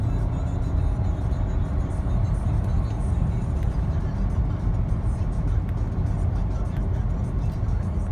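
A 2019 Audi Q7 3.0T accelerating hard from zero to 60, a steady broadband engine and road roar heard from inside the cabin, continuous and fairly loud with no talk.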